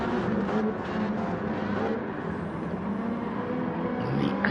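Porsche race car in a Gran Turismo 7 GT Challenge online race, its engine a steady, dense drone that holds at a constant level throughout, with other cars blending into the continuous roar.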